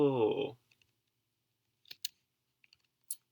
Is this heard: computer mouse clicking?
yes